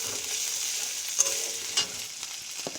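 Green chilies stirred in a frying pan, giving a steady soft sizzle with a few scraping clicks from the spatula, close and alone with no talking.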